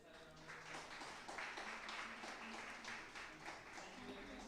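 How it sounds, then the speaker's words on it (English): An audience at a small event claps for the organizing team, a brief, fairly quiet patter of hands that swells and then tapers off, with some speech alongside. "So let's have a round of applause for them."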